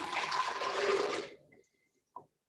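Water pours in a steady, splashing rush onto cashews in a blender jar for over a second, then trickles off, followed by a single faint drip or clink.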